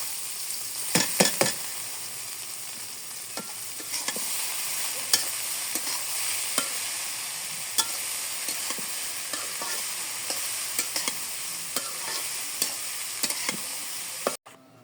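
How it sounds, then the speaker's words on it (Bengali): Potatoes fry in a pan with a steady, close hiss of hot oil. A spoon scrapes and clicks against the pan at irregular moments throughout. "আলু ভাজবো। এখন আমি ভাজি দিয়ে দিই।"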